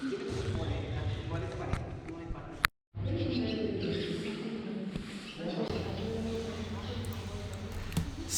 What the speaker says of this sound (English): Little bird community.